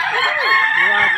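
A kukuak balenggek rooster, a long-crowing chicken breed, gives one loud close crow with a wavering, drawn-out call.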